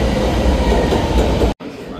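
A Chicago 'L' metro train pulls into Belmont station with a loud continuous rumble and rattle of wheels on rails, close by, then cutting off abruptly near the end.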